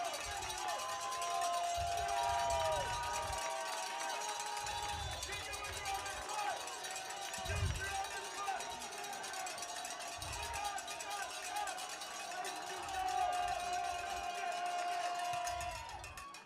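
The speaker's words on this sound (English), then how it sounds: "Time for cowbells. Time to clap your hands now for the kids in Sept." Cowbells ringing and a crowd clapping and cheering in the stands at a Division III college football game between Carnegie Mellon and Allegheny, a steady busy din with an announcer talking over it throughout.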